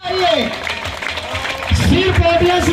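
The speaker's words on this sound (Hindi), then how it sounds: "ताली बजती रहनी चाहिए प्लीज।" An audience claps at the grand finale prize ceremony of the Burnpur Premier League tournament, with the applause running throughout while someone talks loudly over it.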